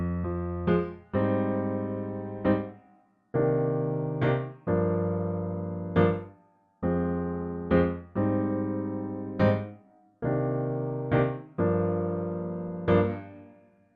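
A piano plays the looping main chord progression of a song, with sustained chords struck in a steady rhythm, each ringing and fading before the next, and short higher notes between them.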